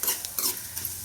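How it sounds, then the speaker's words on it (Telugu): Cumin seeds dry-roasting and being stirred in a pan, a soft scraping sizzle with short rhythmic stirring strokes close up, no voices. "అలాగే హాఫ్ కప్పు జీలకర్ర, ఇవి దోరగా వేపుకోవాలండి."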